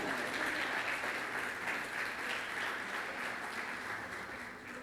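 A church congregation applauds at an evening service, a dense, sustained wash of clapping that fills the room steadily for several seconds and eases slightly toward the end.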